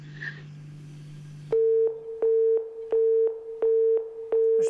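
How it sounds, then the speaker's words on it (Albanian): A telephone busy signal on a called number: after a faint low hum, a loud, steady series of about six evenly spaced beeps sounds close and clear, with no talk. "Është pikërisht numri i telefonit që del vazhdimisht i zonë i babait."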